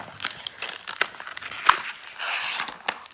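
A peanut butter cup snack wrapper is torn and crinkled open up close, giving bursts of crisp plastic crackling and ripping in an uneven rhythm with no voices.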